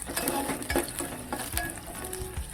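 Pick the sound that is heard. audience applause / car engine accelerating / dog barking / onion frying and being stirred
onion frying and being stirred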